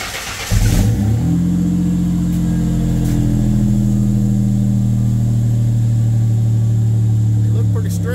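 A Mustang convertible's engine starts and settles into a steady, rumbling idle with a low exhaust drone close by, holding evenly for several seconds.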